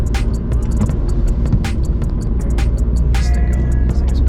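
A brother's car driving, its engine and road rumble steady and loud from inside the cabin, with sharp clicks and brief tones rising over the constant drone.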